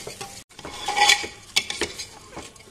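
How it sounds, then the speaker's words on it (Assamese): Pulao rice being fried and stirred in a pan over low flame, a soft sizzle under irregular scraping strokes of a spatula against the metal, with a brief pause early on and sharper clinks near the middle. "এতিয়া অলপ দেৰি ভাজিব লাগিব এইখিনি যিমানে ভাজে সিমানে পোলাওটো খাবলৈ ভাল হয়"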